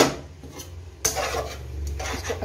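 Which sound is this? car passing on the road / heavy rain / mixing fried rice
mixing fried rice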